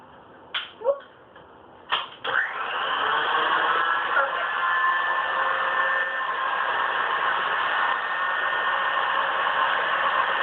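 An electric hand mixer beats coconut cream instant pudding in a bowl. After a few short starts and stops it settles into a steady, loud, even whirring hum that runs on unbroken.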